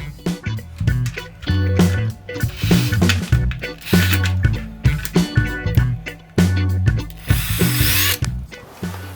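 A power drill bores pilot holes for a window blind bracket, with short bursts of whining motor that rise and stop, plus clicks and handling noise between the runs.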